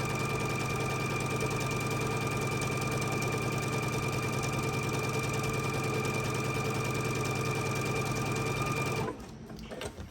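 A sewing machine runs steadily as it stitches down the long panel of a split-panel wall hanging, a close, loud continuous mechanical whir that stops abruptly near the end.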